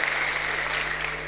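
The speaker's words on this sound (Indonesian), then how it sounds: "Berikan tepuk tangan yang meriah buat Tuhan." Church congregation applauding during a sermon, dense continuous clapping from a large crowd held at an even level over a low steady hum, with no speech on top.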